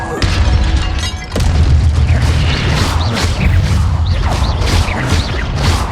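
Repeated Incendio fire spell blasts in Hogwarts Legacy, bursting loudly with whooshing, crackling energy over a dense, continuous battle din of impacts and effects.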